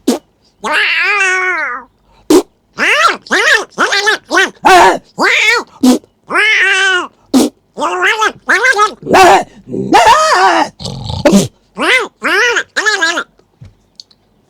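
A human voice imitates a cat and dog fight, with rapid bursts of yowls, snarls and barks alternating in a frantic, close, continuous scuffle.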